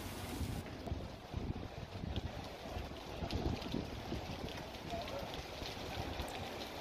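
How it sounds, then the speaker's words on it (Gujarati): Strong gusty wind roars steadily across the microphone during a weather spell in Mehsana district, Gujarat, with buffeting rumbles that rise and fall throughout. "ઊંઝા, મહેસાણા, વિસનગર, બહુચરાજી, કડીમાં ભારે પવન ફૂંકાયો છે."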